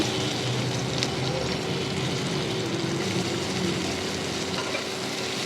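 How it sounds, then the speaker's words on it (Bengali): Chopped onions fry in leftover oil after fish, part of a fish curry with tomato and bean seeds, giving a steady, close, even sizzle that runs unbroken from start to end, with no voices. "এখন যেগুলো তেল আছে মাছ ভেজে ওই তেলের মধ্যে দিয়ে দেবো পেঁয়াজ কুচি"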